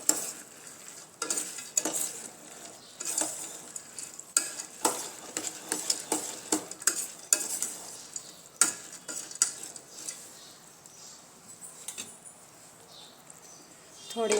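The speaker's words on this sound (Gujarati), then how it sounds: "સરસ રીતે મિક્સ કરી લઈશું." Spoon stirring boondi into a mixture in a pan, quiet repeated scraping and tapping strokes at a steady pace with a faint sizzle underneath.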